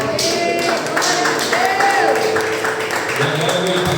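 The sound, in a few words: church congregation applauding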